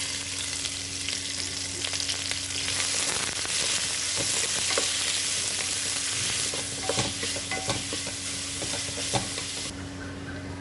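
Finely chopped large onions fry in oil for a restaurant-style kurma, producing a dense, loud, continuous sizzle with occasional spoon scrapes and clicks, heard alone without talk.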